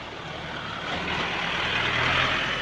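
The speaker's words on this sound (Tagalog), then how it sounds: "yung sasakyan na yan, talagang naka-primera talaga yan" A vehicle grinds up a steep mountain road in Benguet in first gear, a strained engine drone building slowly in loudness over a couple of seconds, no voices.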